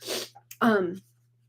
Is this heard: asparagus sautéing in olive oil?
no